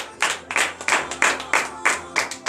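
A group at a morning prayer service claps in steady rhythm, about eight sharp, even claps in unison, loud and close.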